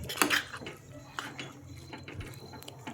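Creamy carrot halwa with half a bowl of milk cream being stirred in a pan, a clinking, scraping spoon against metal with a loud burst at the start, then irregular softer scrapes and taps.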